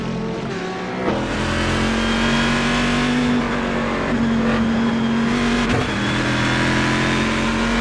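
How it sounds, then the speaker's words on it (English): Corvette race car in a GT racing simulator game at Mount Panorama, its engine roaring loud and steady on board, holding high revs with brief shifts and tonal changes, no voices over it. "The Corvette sounding absolutely beautiful."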